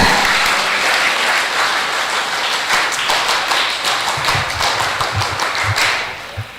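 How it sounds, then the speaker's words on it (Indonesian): A crowd at a Tegal city Scout anniversary ceremony performs the Scout rhythmic clap, a loud, dense burst of many hands striking in patterned beats that continue for several seconds before easing off. "2 kali tepuk pramuka."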